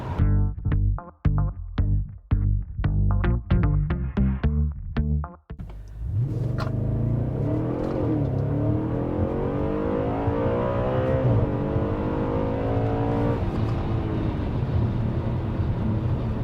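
A 4.2-litre V8 Audi RS5 on old tyres accelerates hard without launch control, shifting early: loud, close, rising engine roar that starts with sharp rhythmic bursts, then settles into a sustained climbing drone through the gears.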